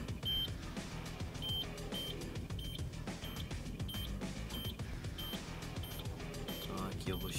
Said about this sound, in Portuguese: aqui eu vou chegando mais próximo, o bip vai ficando contínuo